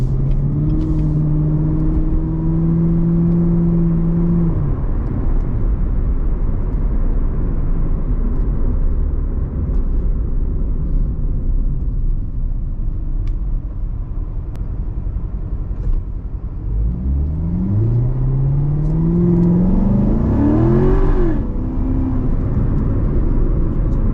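Chevrolet C7 Corvette Z51 Stingray engine heard from inside the cabin while driving, a steady low rumble with a short rising rev early on and another climbing surge of acceleration near the end.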